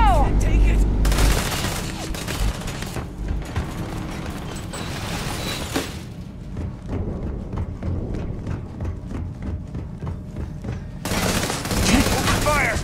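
Bursts of rapid automatic gunfire in the sci-fi video game Starfield, loud and sustained, with a shouted voice among the shots and a mechanical clatter beneath the firing.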